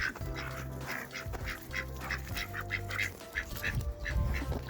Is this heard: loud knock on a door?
no